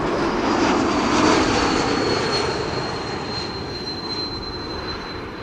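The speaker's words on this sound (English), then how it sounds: "E2 Embraer 195" Embraer 195-E2 airliner arriving at Amsterdam Schiphol, a strong steady engine roar with a thin high whine running through it, slowly fading as it passes.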